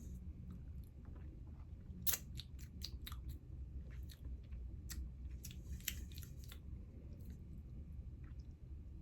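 Someone tasting curry cooked in a rice cooker, with soft close chewing and scattered wet clicks and smacks over a low steady background hum, no talking.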